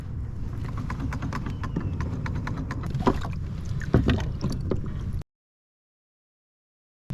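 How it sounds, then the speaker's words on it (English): An Old Town PDL pedal-drive kayak with fishing line tangled in its propeller, giving an uneven clicking, knocking mechanical noise over water and wind, with a couple of louder clunks, then sudden silence before a brief return. "My drive's making some weird noises."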